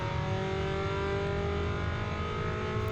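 A race car in an endurance race runs through a braking zone, its engine droning steadily and close from inside the car, the drone holding at a fairly even level throughout with no voices.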